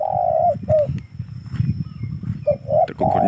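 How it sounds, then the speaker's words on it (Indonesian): Cuckoo-dove calling near a rice field: several low, hollow coos, close by, with brief pauses between them. Rustling and muffled handling sounds run underneath. "Burung uncal menclok di belakang saya."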